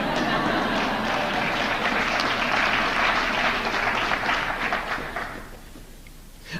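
A conference audience claps in a sustained, dense burst of applause that holds steady for several seconds and then fades out toward the end.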